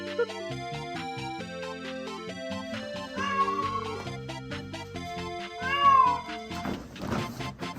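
Cartoonish meows from a cat in the video game Thought Experiment Simulator, several short rising calls over busy game music, with a louder whining meow near the end.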